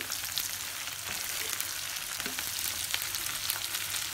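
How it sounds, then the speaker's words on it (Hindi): Green chilies frying in oil for a pickle crackle and sizzle steadily up close, with scattered small pops and occasional light stirring sounds and no voices. "हम मिर्ची डाल के उसको एक मिनट फ्राई कर लेंगे"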